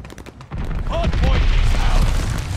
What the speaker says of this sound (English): I've got a mortar barrage. Allied mortar fire inbound.